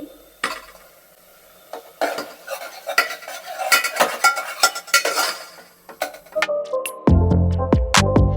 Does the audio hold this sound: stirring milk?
yes